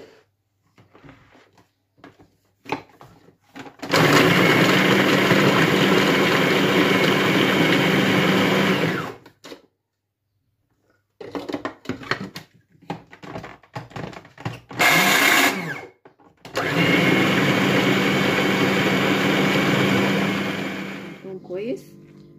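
An electric blender whirs loudly while chopping garlic with salt and sugar, two long sustained runs of several seconds each separated by clatter, handling noises and a short burst.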